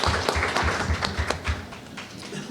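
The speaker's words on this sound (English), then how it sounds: "Yeah, please give them applause." An audience claps for a student mental health panel, a brief burst of hand clapping from nearby listeners that tapers off toward the end.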